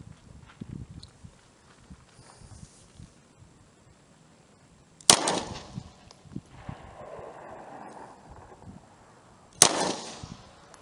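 An SCCY CPX-2 pistol fires two sharp, loud shots about four and a half seconds apart outdoors, with quiet handling noise between them.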